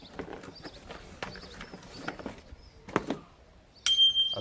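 A new bicycle bell for a Norco Fluid 7.3 FS mountain bike rings once with a bright metallic ding near the end, after soft handling and rustling noises from the unboxing.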